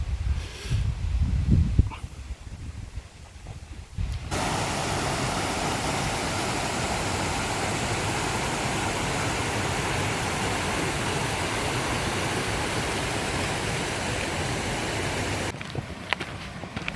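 A mountain stream in the valley below the Refuge des Merveilles rushes in a steady, dense broadband wash that fills most of the stretch at close range, with quieter ambience at the start and end.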